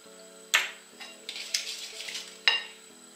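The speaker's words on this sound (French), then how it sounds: "eu vou bater 3 ovos" Eggs being beaten in a bowl for boulettes made from leftover dry bread, heard as a few sharp clicking strokes of a utensil against the bowl, close and fairly loud, over a steady low background hum.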